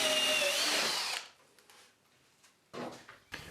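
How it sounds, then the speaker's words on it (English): A power drill whirs loudly for about a second while boring a hanging hole in a prototype saw track, then stops, followed by a few quieter clunks and handling knocks. "Now drilling a hole for hanging it on the wall."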